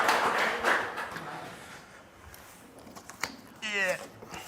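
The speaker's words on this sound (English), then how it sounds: "So round of applause for them" Scattered audience clapping for sponsors at a startup pitch event, a modest burst that thins out quickly, followed by a speaking voice.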